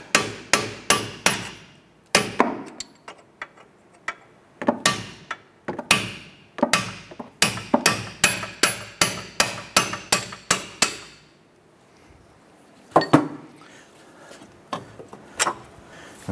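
Steel punch struck repeatedly with a hammer to drive out the upper strut bolt on a 2006-2013 Chevy Impala front suspension: a close, loud series of sharp metallic blows in quick bursts, a pause, then a few more strikes.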